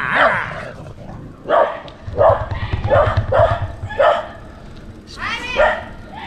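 Dogs barking in Laos, several loud, close barks and yips in irregular bursts, some in quick succession, with a low rumble beneath.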